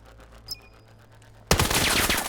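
Rapid automatic burst from a SCAR rifle in the VR shooter Vail, a loud dense rattle of gunfire bursting in suddenly after a quiet lead-in and continuing to the end.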